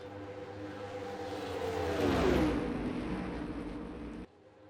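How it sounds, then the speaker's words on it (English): Race cars drive at Daytona in a racing video game, a blended engine drone that swells to a peak and then eases off as a car passes, cutting out abruptly near the end. "4 cars in a straight line, that will make it fast as Mann goes to the inside."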